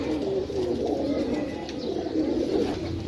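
Pigeons cooing close by in a loft, several soft overlapping coos repeating continuously in a low murmuring rhythm.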